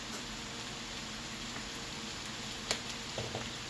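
Potatoes sizzle and fry in a pan as liquid cooks out of them, a soft, steady crackle with a couple of brief sharper pops near the end.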